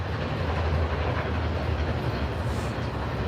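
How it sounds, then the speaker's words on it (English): A large train rumbles past close by, a loud, steady roar of rail cars with faint clickety-clack throughout. "That's a big fucking train right there."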